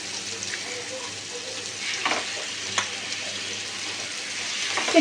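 Chicken pieces frying in butter in a hot grill pan give a steady, close sizzle, with a few soft stirring clicks and scrapes throughout.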